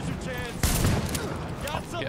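Gunfire in The Division, a burst of shots with one loud, sharp report in the middle, mixed with game effects, while a voice talks over it.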